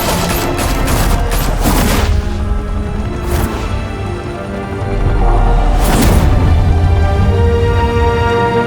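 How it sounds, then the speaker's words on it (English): Rapid gunfire erupts in Batman: The Telltale Series, loud overlapping volleys and bursts with a few heavy booms spread across the clip, close and dense. "Open fire!"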